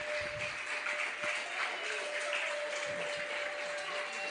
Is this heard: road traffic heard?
no